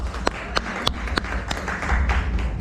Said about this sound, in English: Round of applause for our judges